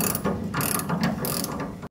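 A ratchet and pawl clicks in fast, steady bursts while bolting new leaf spring shackles onto a Squarebody Chevrolet C30 truck during a 3/4 drop kit install, close and fairly loud with no talk, ending in a sharp cutoff.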